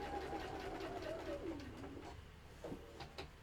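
A sewing machine stitching close to the fabric edge at a stitch length of 3.5, a short quiet burst of whirring mechanical running that slows and stops, with faint background sounds.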